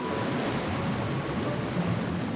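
Water rushes in during Super Mario Galaxy 2, a steady wash of surf-like noise that roars evenly for a couple of seconds with no voices over it.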